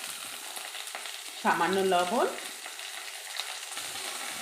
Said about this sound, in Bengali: আবার সবজিটা নাড়িয়ে চাড়িয়ে ভালো করে ফ্রাই করে নেব